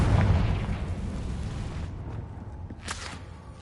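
Fiery blast of the Confringo spell in Hogwarts Legacy, a loud booming explosion at the start that rolls off into a low, fading rumble with a bright crackle near the end.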